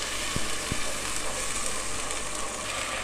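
Cumin seeds roasting in a pan for moong dal, giving a steady, close crackling sizzle with a couple of brief knocks near the start and no talk.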